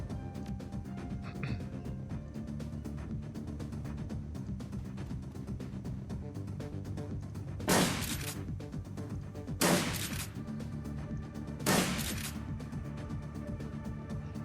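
Three sharp shotgun blasts from Shadowrun: Dragonfall ring out about two seconds apart, loud over a steady bed of game music and ambience.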